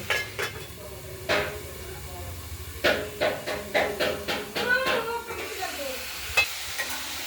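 Cabbage with peas, potato and tomato is stirred in a hot pan, a run of sharp spoon scrapes and knocks against the metal over a light, steady sizzle.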